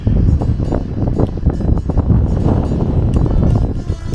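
Strong wind at the Acropolis in Greece buffets the microphone in heavy, continuous low rumbling gusts throughout.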